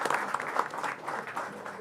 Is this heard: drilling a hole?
no